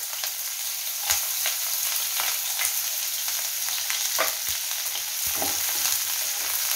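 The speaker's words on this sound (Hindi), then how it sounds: "कढ़ाई में हम थोड़ा सा तेल डाल दिए हैं। सबसे पहले इसमें हम प्याज डाल देते हैं" Chopped onion fries in a little oil in a kadhai, a steady bright sizzle with occasional sharp pops and the scrape of stirring, close and fairly quiet.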